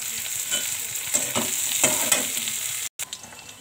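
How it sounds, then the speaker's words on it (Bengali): Chopped potato hits hot oil already holding softened onion and radhuni seeds, giving a steady bright sizzle with scraping stir strokes, then a brief cut near the end; no voices. "এবার দিয়ে দেবো আলু কুচি।"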